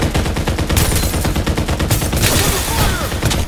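Fast automatic gunfire from the battle-royale shooter Farlight 84, loud and continuous, with rapid repeated shots filling the whole stretch and no voices over it.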